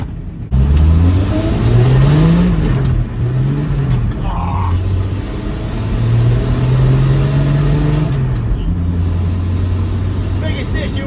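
A 1967 Dodge van engine revs hard and loud up close while being bang shifted through a column-mounted three-speed, pitch climbing and dropping between gears.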